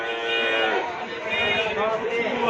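Cattle at a busy Indonesian livestock market moo loudly and close by, a long drawn-out bellow with a rich, droning tone over faint background bustle.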